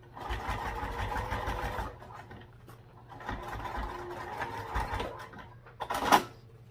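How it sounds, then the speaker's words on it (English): A sewing machine bastes a strap topper for a baby sling, two quiet runs of steady stitching rattle separated by a brief pause, ending with a small clack of handling. "We're just basting on this strap topper right now."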